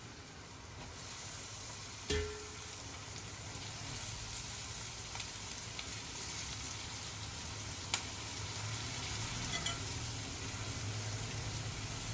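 Amaranth leaves drop into a pan of fried onions and give a faint, steady sizzle, broken by a few soft clinks from the pan.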